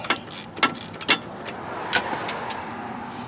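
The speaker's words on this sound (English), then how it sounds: "let's get these caliper bracket bolts out" Quick bursts of ratchet clicking as caliper bracket bolts are worked loose on the rear hub of a 2012 Chrysler 200, close and uneven with short pauses between strokes.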